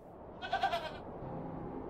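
A goat in the video game The Excavation of Hob's Barrow lets out a short, quavering bleat, close and clear over a quiet background.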